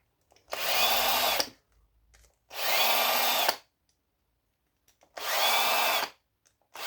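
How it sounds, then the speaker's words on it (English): A power drill backs Phillips screws out of an old electrical fitting in three long whirring runs of about a second each, separated by brief pauses, close and loud. "These Phillips screws have to come out."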